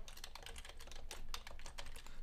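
Code typed on a computer keyboard, a rapid close stream of clicking keystrokes at an uneven rhythm with no talk over it.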